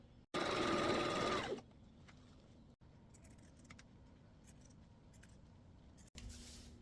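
Sewing machine stitching a Christmas stocking, a loud continuous motor whir for about a second, then quieter room tone with faint small clicks, and a brief restart of the machine at the end.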